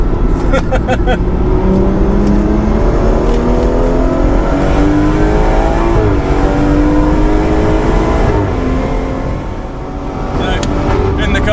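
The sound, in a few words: BMW M240i exhaust pops and bangs on track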